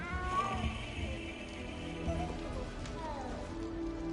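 A cat meows several times in a video game set in a castle, short mid-pitched calls over a soft ambient bed with a light patter like rain beneath.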